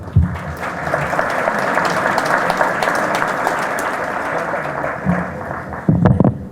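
An audience at an engineering college ceremony in Peru claps for the national dean, a dense, steady roomful of applause lasting several seconds before fading, with a few louder nearby claps at the end.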